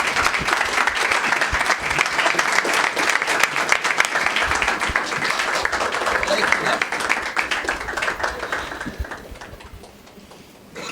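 An audience applauds a storyteller at a Hindi open mic event. The clapping is vigorous and sustained with distinct individual claps audible, fades out near the end, and a voice briefly comes in as it stops.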